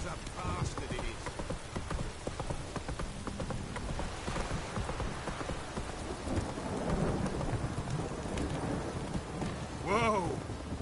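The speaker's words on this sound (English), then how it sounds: "this downpour's a bastard" Heavy rain pours steadily while thunder rumbles in The Witcher 3: Wild Hunt, joined by clopping horse hoofbeats and a brief voice near the end.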